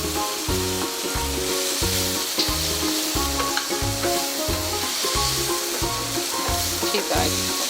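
Capsicum fries in a pan for chicken Manchurian, giving a continuous sizzle with a regular rhythmic scraping as it is stirred, close and fairly loud.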